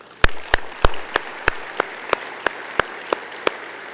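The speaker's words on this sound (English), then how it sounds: "Round of applause for Matt." Sharp, evenly spaced claps, about a dozen in a slow steady rhythm, close and fairly loud, greeting a new fellow at a seated table gathering.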